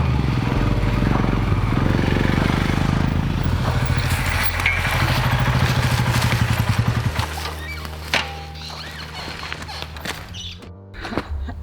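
An off-road motorcycle engine drones loud and close while being ridden, steady at first, then easing off into scattered knocks and rattles toward the end.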